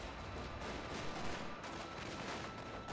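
Massed musket fire from gunners in a Total War: Shogun 2 battle, a dense, continuous crackle of overlapping shots heard steadily throughout at a fairly distant, even level.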